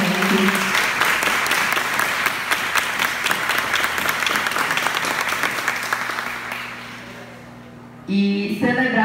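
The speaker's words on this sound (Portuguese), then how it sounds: "salve de palmas para a produção da Itabol, gente" A crowd applauds the Itabol production at a ballroom event honouring Femme Queens, with loud, dense clapping that gradually thins out and fades, followed by a brief burst of other sound at the end.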